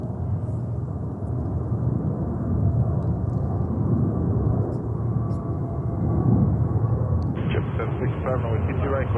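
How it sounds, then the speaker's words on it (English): A JetBlue Airbus A321neo takes off at New York's JFK airport on a winter day, its jet engines a loud, steady, sustained roar that fills the whole clip without letting up. "Back-to-back takeoffs at the moment. That's a JetBlue 321neo."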